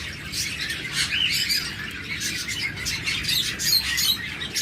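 Budgerigars at a bird breeder's sell point chirp and squawk together, a busy, continuous chatter of overlapping calls from many birds close by.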